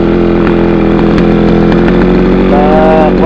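A grass cutter engine runs loud and steady throughout, a constant buzzing drone with a faint rising whine near the end.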